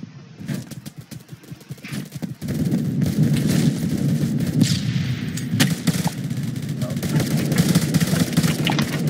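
Rapid gunfire from the online shooter game Phantom Forces, a dense run of sharp shots and bursts that grows louder after the first couple of seconds and continues steadily, with a voice talking over it.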